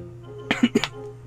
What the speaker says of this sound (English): I coughed and I farted at the same time